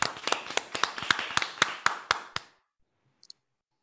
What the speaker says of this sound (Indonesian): tepuk tangan dulu untuk Kalimantan Utara